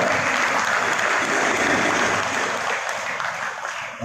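A crowd at a provincial hospital inaugural ceremony claps loudly and steadily, the applause easing slightly near the end.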